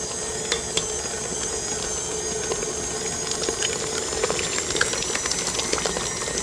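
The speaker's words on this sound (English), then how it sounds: "while this is blending, we're going to put 1 egg at a time in here" A blender runs steadily, mixing cheesecake batter for a white chocolate peppermint cheesecake, a constant whirring hum with a dense wash of high noise and small clicks, close and alone without talk.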